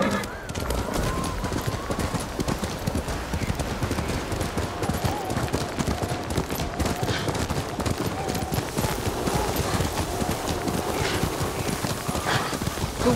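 Steady clip-clop of horse hooves at a trot in the video game Ghost of Tsushima, continuous and rhythmic throughout, with a faint whinny and distant sounds behind.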